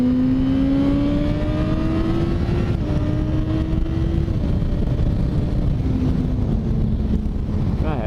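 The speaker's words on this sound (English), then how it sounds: "You gotta rev it up every once in a while." A diesel Volkswagen engine revs and holds a raised idle, its tone drifting slowly up and then easing down, loud and continuous under heavy wind buffeting on the microphone.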